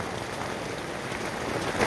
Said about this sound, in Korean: 이건 우박 떨어지잖아 지금 막 따닥따닥 소리 나는데 우박이 떨어져 우박이 뭐 깨지는 소리잖아